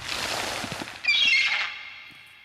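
A seagull gives a harsh, loud squawking call, rising then drawn out and fading, over a brief noisy rush at the start.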